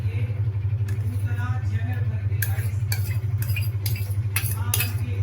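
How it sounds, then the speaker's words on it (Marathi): Curd stirred into cooked rice with a spoon, soft scraping and clinking strokes against the vessel, becoming sharper toward the end, over a steady low hum with a person talking throughout. "आधी कर्ड राईसमध्ये दही कालवून घेऊ"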